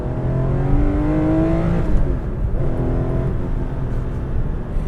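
A Singer-modified Porsche 911 with an upgraded engine revs hard and loud, its pitch climbing then dropping and rising again, a steady throaty roar close by.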